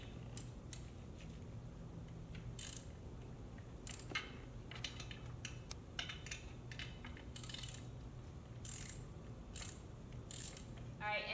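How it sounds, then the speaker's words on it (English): A wrench working on the 12mm exhaust header bolts of a Honda Grom: faint, scattered ratchet clicks and metallic taps in short bursts over a low background hum. "the header bolts are 12mm, and we're going to take those off first"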